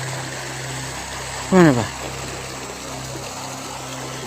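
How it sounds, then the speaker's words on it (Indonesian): A waterfall rushes in a steady, broad wash of water noise that runs throughout, with a brief spoken question cutting in near the middle. "Ada air terjun pak."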